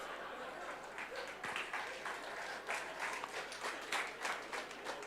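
An audience at a spiritual talk applauds, scattered clapping rising into a fuller run of claps that comes and goes at a fairly quiet, distant level.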